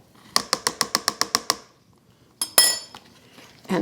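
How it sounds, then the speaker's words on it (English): A metal spoon clinks rapidly against a bowl while stirring chicken soup, about eight quick even taps close up, followed by a brief pause and a louder rattle of utensils. "And the chicken soup, taking a clean spoon and stirring it just a little bit."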